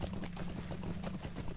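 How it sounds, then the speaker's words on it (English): Horse galloping in the online role-playing game Lord of the Rings Online, a fast steady clip-clop of hooves repeating throughout, moderately loud with no talk over it. "It's a pretty fast horse."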